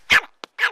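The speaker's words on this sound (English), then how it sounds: "I like to bring my hunting dog." Tiny chihuahua hunting dog barking up close, two sharp yaps with a brief small yip between them.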